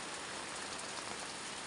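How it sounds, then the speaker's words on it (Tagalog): Heavy rain pouring down, a steady dense hiss of drops on surfaces that stays even and loud throughout with no voices over it. "Ayan, ang lakas ng ulan, oh."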